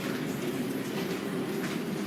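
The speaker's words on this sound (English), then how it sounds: "This is a Woodlawn-bound 4 train." Steady rumble of an R142 New York subway 4 train in motion, a continuous heavy rolling roar without pauses, heard from inside the car.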